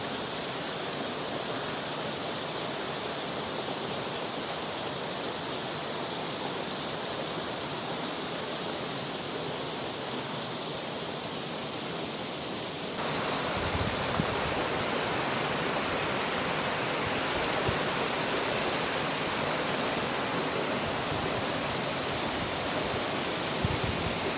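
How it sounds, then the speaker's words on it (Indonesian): A river flowing beside a forest at the far end of a road near Padang, a loud, steady rush of water that fills the whole stretch and swells slightly stronger partway through. "Nah, dan kita ada di dekat sungai ya, aliran air."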